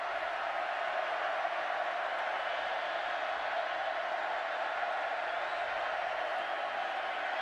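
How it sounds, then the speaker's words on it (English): At a college football game in Waco, a big stadium crowd holds a broad, steady roar on a key third down, distant and even, with no distinct cheers standing out. "Crowd knows it. Getting loud here in Waco."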